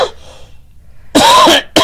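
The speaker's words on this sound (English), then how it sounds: "I was trying not to cough in the mic, and I, bam, hit it" A single sharp cough close to the microphone, followed by a loud muffled thump and a second short burst as a hand knocks against the mic.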